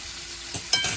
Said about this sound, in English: That steak is starting to cook.